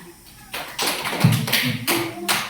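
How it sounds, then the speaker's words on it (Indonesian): Short burst of clapping in a school classroom after a group discussion presentation, uneven and close, lasting a couple of seconds with a faint voice at one point. "Berikan tepuk tangan."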